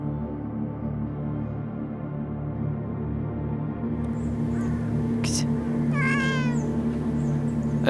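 A lone cat living among abandoned houses in the Chernobyl zone gives a few short meows over a steady low background hum, briefly and fairly close.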